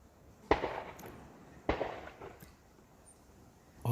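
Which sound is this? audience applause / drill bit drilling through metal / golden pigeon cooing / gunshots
gunshots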